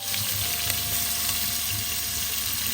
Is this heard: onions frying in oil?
yes